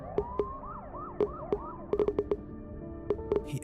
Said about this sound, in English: he hears the sounds of police sirens outside